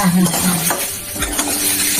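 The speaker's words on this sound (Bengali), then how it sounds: "আলু বরবটি ভাজা, লবণ হলুদ দিয়ে দিয়েছি।" Potatoes and yardlong beans fry with salt and turmeric in a pan, a close steady sizzle broken by scraping stirs of a spatula against the metal.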